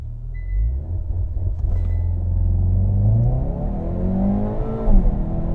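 A Hyundai Veloster N with a dual-clutch transmission accelerating hard, a loud rising engine drone climbing through the gears with an abrupt shift near the end.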